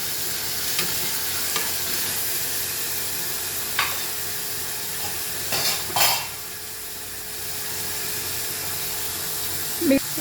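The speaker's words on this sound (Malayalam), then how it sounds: "തക്കാളിക്ക് തക്കാളിയും ഇട്ടൊന്ന് വഴറ്റി കൊടുക്കാം" Tomatoes sautéing in a pan over a medium flame hiss in a constant close sizzle, with a few brief stirring scrapes and one louder burst of spitting partway through.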